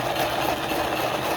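A 3D-printed rock tumbler with black ABS plastic gears runs with rocks and coarse grit, giving a steady close motor drone and hum with a faint rolling rattle under it.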